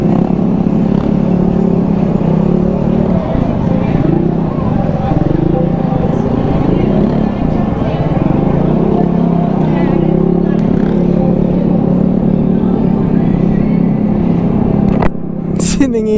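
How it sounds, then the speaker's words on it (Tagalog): Dense street traffic rolls past while riding Vespa 300 scooters, a steady close wash of car and motorbike engines with occasional revving and clatter, plus a sharp knock near the end. "Yun lang, traffic."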